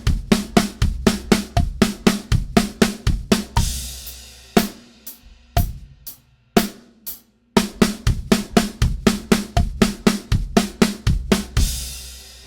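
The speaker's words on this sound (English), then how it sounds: "if we were to play it on the snare drum and the kick," A three-note sticking pattern played on snare drum and kick as sixteenth notes, with rapid, loud, repeating hits that break briefly into a sparser fill before the pattern resumes.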